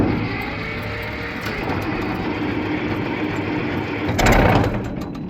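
Case 500 diesel tractor engine cranking steadily with a buzzy mechanical drone, then catching near the end with a louder burst as it fires, no talking.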